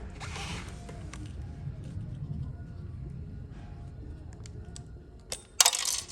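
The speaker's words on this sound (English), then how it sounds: "you can go ahead and remove this C-clip right here" A flathead screwdriver works at a metal C-clip on an Aeron office chair's tilt limiter, giving small creaks and scrapes over a low room hum, ending in a sharp metallic snap and clink as the clip comes free.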